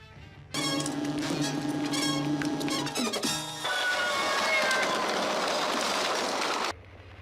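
A train rolls past in a movie scene, a loud steady rumble with a tonal horn or wheel whine, then a shift to a broad rushing roar before it cuts off abruptly.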